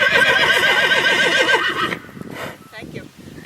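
A pack horse fitted with a crupper lets out a loud, wavering whinny for about two seconds, then a person talks over faint movement sounds.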